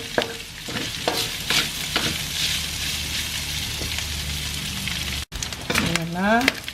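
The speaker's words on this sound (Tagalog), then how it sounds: "Pumuputok-putok na siya." Pork liver for Ilocano igado frying in a pan, a steady close sizzle broken by sharp crackles and pops and the scrape of stirring; a voice speaks briefly near the end.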